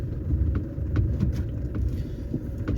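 A car drives steadily along a muddy dirt road in snowy conditions, giving a close, continuous low rumble with no pauses and no talking.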